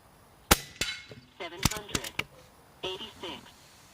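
A Hatsan Nova Star 5.5mm air rifle fires slugs in several sharp, close cracks spaced irregularly, each with a short metallic ring, while someone talks between the shots.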